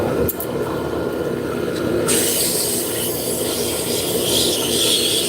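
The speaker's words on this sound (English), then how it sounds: "Spindle gouge takes less material off." A spindle gouge cuts wood on a spinning lathe, producing a loud, continuous rushing scrape with a steady hiss that grows brighter and harsher partway through as the tool bites in.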